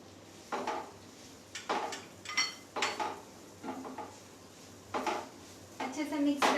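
Spoon clanks and scrapes in a pot or bowl as boiled potato is mixed with garam masala for samosa filling, several separate knocking, clattering strokes spaced about a second apart, fairly close.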